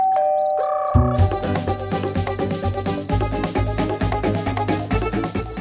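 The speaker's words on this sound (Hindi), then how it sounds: "बजी घंटी।" A doorbell chimes a short ding-dong near the start, then a lively musical sting with rhythmic beats follows loudly.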